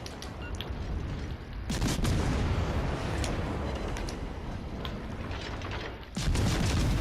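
Front guns of a ship firing in World of Warships: Legends, heavy booming volleys with rumbling low-end and mechanical clatter, two sharp onsets amid continuous battle noise.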